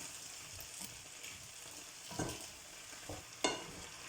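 Onions for an onion tart cook gently in a pan with a soft, low sizzle, broken by a few distinct stirring scrapes and clinks, quiet and close with no talk.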